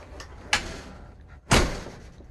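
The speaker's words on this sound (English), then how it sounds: "I even slammed the door." A travel trailer door at a desert campground slams shut twice, a sharp hit followed by a louder, fuller bang with a brief rattling decay, close and loud.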